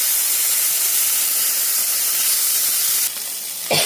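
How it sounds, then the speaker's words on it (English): Sausage patties sizzle in a frying pan with a loud, dense, steady hiss close up, which thins out near the end before a brief scrape or clatter. "Well, I'm burning my sausages."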